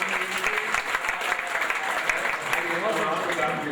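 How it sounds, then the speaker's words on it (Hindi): Audience applause at a 2006 kavi sammelan poetry recital, a continuous crowd clapping at mid distance, with the poet's voice rising over it toward the end. "सही पंक्ति पर सही तालियां बजाई"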